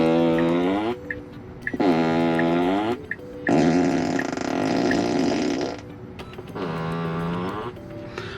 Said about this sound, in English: Enter emissions and select farting noise.